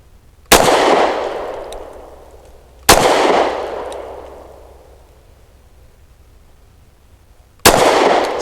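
Three single pistol shots from an EAA Girsan High Power Lightweight firing cheap ammunition outdoors, each a sharp loud crack with a long fading echo, spaced a few seconds apart.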